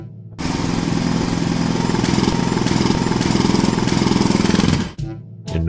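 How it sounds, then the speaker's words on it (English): A loud, steady mechanical rattle like a jackhammer pounds continuously for several seconds, then cuts off abruptly. "Then took out the tool that he had just bought. It was a jackhammer, shiny and new."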